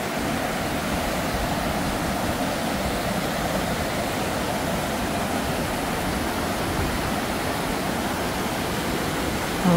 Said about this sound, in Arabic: هذا هو شلال ستوب اند فول سويسرا منطقة يوري